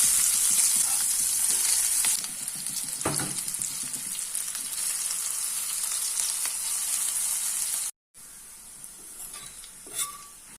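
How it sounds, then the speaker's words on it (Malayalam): Tender jackfruit pieces deep-fry in hot oil with a steady, loud sizzle and crackle throughout, a few louder pops and spatters, and a brief drop to silence near the end before the frying resumes. "നമുക്കിനി ബാക്കിയും കൂടി എണ്ണയിലേക്ക് ഇടാം"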